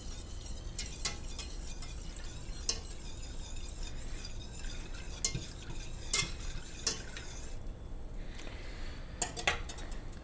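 A whisk stirs liquid in a pot during home brewing, making repeated scraping and swishing strokes with light metallic clinks against the pot, close and fairly quiet, with no talking.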